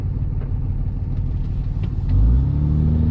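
A 2006 Cummins diesel truck fitted with a 5-inch MBRP exhaust accelerating through a turn, steady low engine rumble from inside the cab that swells and rises in pitch near the end.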